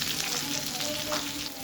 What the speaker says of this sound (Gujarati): હવે જે તમે કાપીને મૂક્યા છે વેલણિયા એ તમારે એમાં નાખી દેવાના છે આ રીતે.